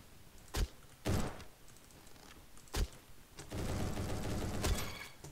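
Gunfire from a gun in a first-person shooter game: a few separate sharp shots, then a denser burst of rapid fire toward the end, loud and close with no talk.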